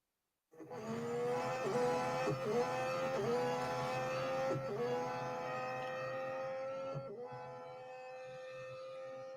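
A Formula One race car engine in the Real Racing 3 video game, running a lap of the Silverstone circuit. The engine starts abruptly and holds a loud, high-pitched whine, with brief dips at each gear shift, and fades slightly toward the end.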